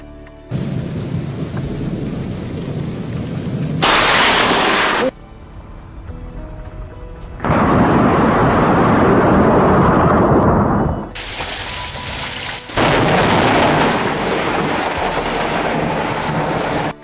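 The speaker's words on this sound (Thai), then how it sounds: "ลองดูผลของฟ้าผ่าจากวิดีโอนี้นะครับว่ารุนแรงเพียงใด" Heavy rain pours steadily while loud rumbling thunder crashes in several long bursts, each roll swelling and cutting off, close and powerful.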